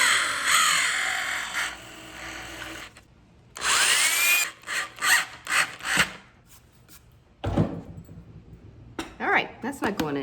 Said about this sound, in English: I'll drill some new holes and add additional screws.